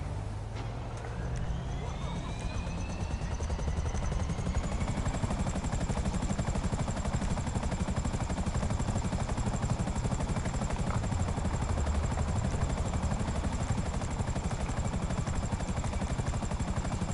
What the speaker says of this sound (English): What I'm going to do when I get in the chopper is I'm going to start the chopper up